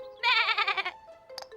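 A sheep bleats loudly in a long wavering call, followed by a shorter, quieter bleat after a brief pause.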